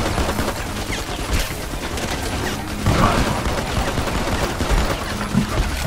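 Rapid gunfire and machine gun bursts in the shooter video game Modern Combat, dense and continuous with louder shots punching through, fairly loud.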